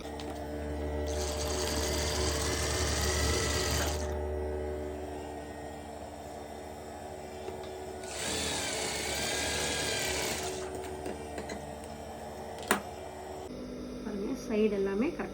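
A sewing machine stitching the shoulder seam of a blouse, two bursts of fast whirring needle runs of about three seconds each, separated by a quieter pause, with handling clicks and rustle at the end.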